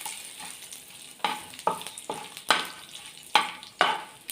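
Finely broken urad dal and two dried Kashmiri red chillies roasting in a pan, a light sizzle broken by repeated louder scraping bursts as the mix is stirred, close and without speech.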